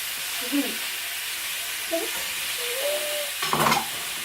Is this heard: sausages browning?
yes